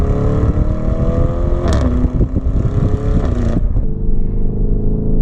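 A 640-horsepower Lamborghini Urus SUV accelerates hard, its engine drone rising in pitch through the gears with loud, close revving before easing off into a lower, quieter hum near the end.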